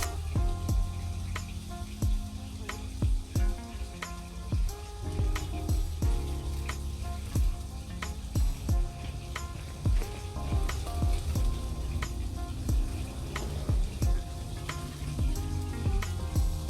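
Vegetables fry in a hot pan with a steady, crackling sizzle. Frequent sharp pops and the clatter of stirring run through it, loud and close, with no talk.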